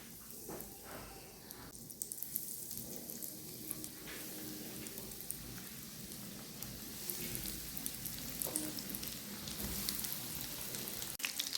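Shrimp balls fry in hot oil with a quiet, continuous crackle and spatter, like light rain, that lasts throughout with no talk.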